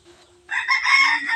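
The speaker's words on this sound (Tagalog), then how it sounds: "Dito tayo ngayon sa ating munting manukan." A rooster crows loudly and close in a small backyard chicken coop, one long drawn-out call after a brief faint cluck.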